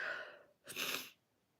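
A single sharp sneeze bursts out close by, preceded by a breathy intake and followed by quiet.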